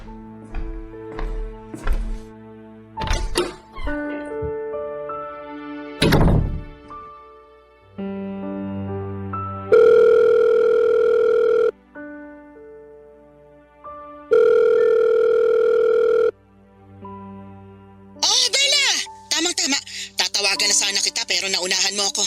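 A telephone call in progress: repeated electronic ringing tones sound in steady bursts, loud and close, alternating with dial-style beeps and short pauses, ending in a burst of brighter, warbling tones.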